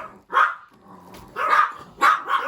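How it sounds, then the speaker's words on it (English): A house dog barks at someone outside, three sharp, loud barks close by with short gaps and a low growl between them. "they're going to bark."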